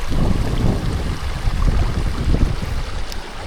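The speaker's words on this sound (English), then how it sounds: "this goes over a little waterfall here, which is all very nice" Running water tumbling over a small waterfall in a stream in the Wharfedale valley, a steady close rushing and splashing with some wind buffeting on the microphone.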